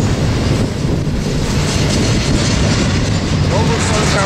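A Norfolk Southern double-stack freight train rolls past close by, with a loud, dense, continuous rumble and rattle of wagons and faint wheel squeal, with wind buffeting the microphone.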